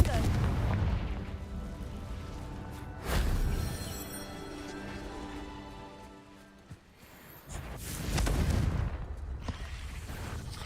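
Confringo fire spell fired in Hogwarts Legacy, heavy booming blasts with rumbling tails that ring out and die away, then flare again, loud and close.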